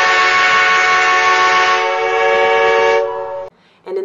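A loud sustained train horn blares as an inserted sound effect, one long steady harmonic blast lasting about three seconds before cutting off, followed by a brief short burst.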